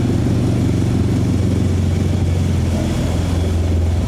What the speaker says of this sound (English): High idle to low idle.